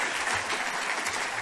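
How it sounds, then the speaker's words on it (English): Audience applause at a climate-action presentation: steady, dense clapping from a seated crowd, fairly close and even throughout, with no talk over it. "Let's give him a quick little round of applause."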